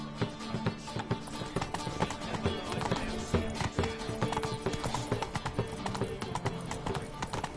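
Roach the horse trots in The Witcher 3, hooves clip-clopping in a brisk, close, regular rhythm with a brief whinny amid the game's ambient sound.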